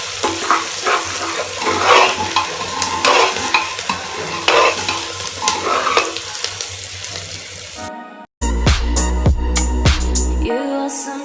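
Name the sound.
onion frying in a pan with salt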